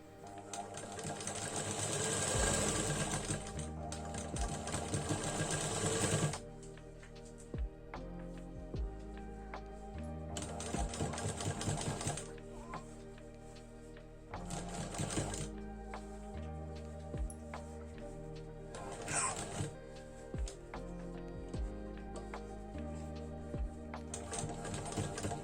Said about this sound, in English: The strip is ready and now we will begin stitching.